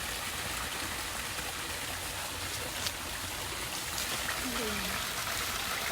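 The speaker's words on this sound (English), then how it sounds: "Looks like there's already a small stream here." A small natural stream runs across farmland on a citrus and coconut farm in Quezon Province, Philippines, giving a steady, soft broadband wash of flowing water throughout, with faint outdoor ambience and no close talk.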